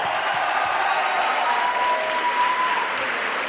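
Audience applause at the Toulouse Game Show, a dense, continuous wash of many hands clapping from a large crowd, steady and loud throughout.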